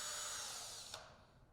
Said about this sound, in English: drill 1/4 inch hole in the center